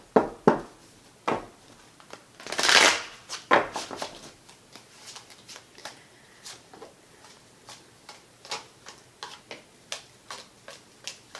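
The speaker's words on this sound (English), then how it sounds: "Usually I shuffle more than once" Tarot cards being shuffled during a full moon reading, a burst of riffling near the start followed by scattered soft taps and clicks of the deck being handled, close by and without talk.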